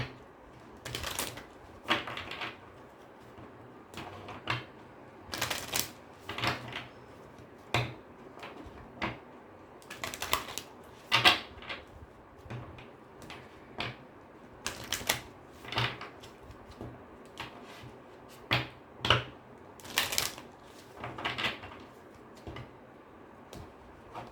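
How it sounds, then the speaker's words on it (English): Tarot cards are shuffled and pulled from the deck, giving many sharp, close card snaps and riffles at an irregular rhythm over a quiet background, with no voices. "let me just pull one card for you"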